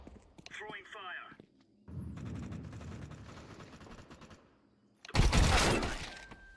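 A Counter-Strike incendiary grenade bursts with a sharp, loud shattering whoosh near the end, after a stretch of mechanical in-game rattling, with a voice heard amid the game sounds.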